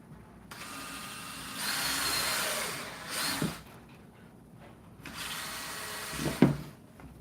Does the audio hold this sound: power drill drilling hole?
yes